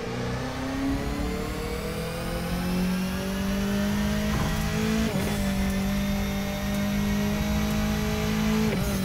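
Mitsubishi Lancer WRC 05 rally car engine in The Crew 2, droning steadily at high revs with slowly climbing pitch, brief dips at gear shifts, loud and close with no talk.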